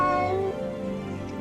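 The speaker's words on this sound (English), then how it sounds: "I heard a cat." A long-furred black and white cat gives a drawn-out meow that dips slightly midway, heard alone and fairly close, with no talking.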